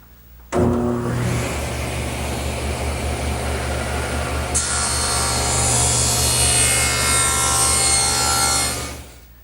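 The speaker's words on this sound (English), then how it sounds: "Now what I want to do is make a 90-degree cut to that first bevel that I made." A table saw making a 90-degree cut in wood in a workshop: the motor spins up abruptly into a loud, steady whine, the tone brightening as the blade bites into the board, then running down at the end, no voices.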